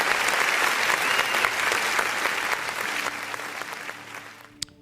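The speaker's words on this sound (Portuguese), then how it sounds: "Aplauda o Senhor Jesus por essa palavra poderosa" A church congregation applauds during an online worship service, dense steady clapping that slowly thins and fades out toward the end.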